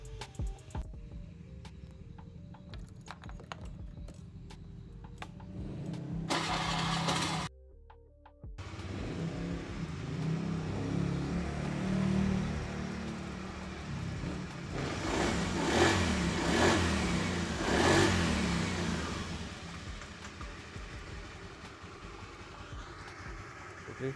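A fuel-injected engine cranks and catches, settles into a steady idle, then revs up hard in a loud burst before dropping back to idle.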